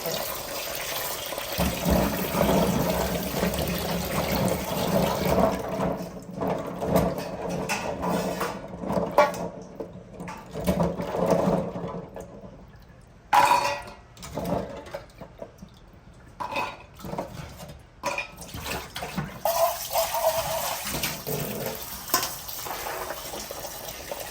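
Water poured or running into a vessel at home, a steady wet splashing with gaps and bursts over most of the stretch, with people talking at times beneath it.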